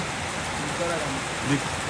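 Steady rain falls on a rice farm in a broad, even hiss that runs through the clip, with faint voices talking beneath it.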